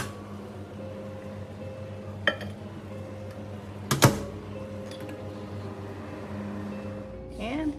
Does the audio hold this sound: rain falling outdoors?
no